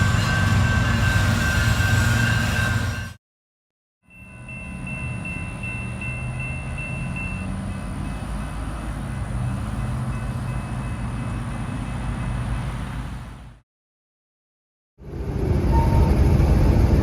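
A CSX local freight train, L734, rolls past in Dothan, Alabama, giving a loud, steady rumble of wheels and cars with a faint high squeal, heard alone without voices.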